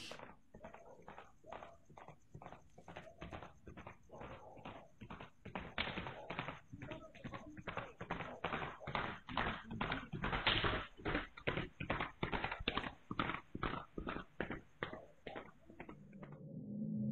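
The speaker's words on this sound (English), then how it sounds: "mysterious horse galloping noises can be heard approaching ever so slightly" Rhythmic hoofbeats of a galloping horse outdoors at night, a steady stream of quick thuds that grows gradually louder as it approaches, with a faint high whine running throughout.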